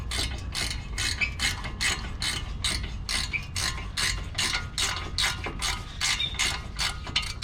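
A ratchet wrench clicks in fast, steady bursts while backing out the bottom brake caliper bolt on a Subaru STI, close and clear with no talk.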